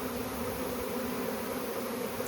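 A swarm of honeybees, a close, continuous dense buzzing drone with a steady pitch and no talk over it.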